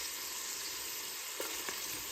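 Chicken pieces frying in a pan after being flipped, a faint continuous sizzle with a couple of soft clicks near the end, no voices.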